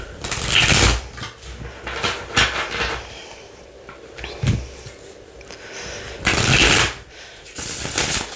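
Crisp riffling and slapping of a supple tarot deck being shuffled in several bursts, close up, with soft handling noises between the louder flurries and no talking.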